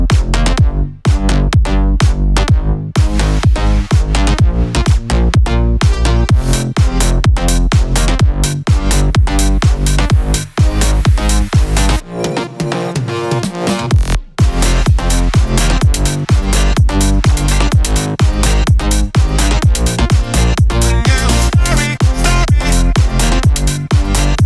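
A loud, full future house song, with a punchy four-on-the-floor beat, dense synths and bass, a brief breakdown near the middle before the drop returns; no talking.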